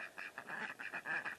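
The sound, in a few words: ducks quacking in the background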